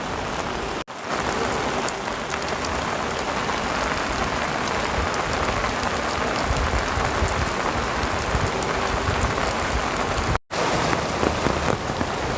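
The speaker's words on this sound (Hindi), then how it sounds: "बारिश हो रही है, छतरी लिया हूँ" Steady rain pours down on surfaces all around, a dense, even hiss with no speech, heard close while someone stands under an umbrella outdoors.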